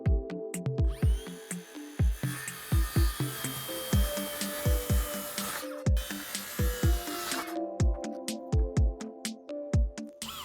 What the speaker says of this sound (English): So if you're wondering why I'm driving these screws in at a slight angle